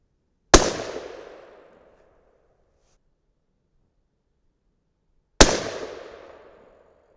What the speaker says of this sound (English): Let's go ahead and shoot the other 2.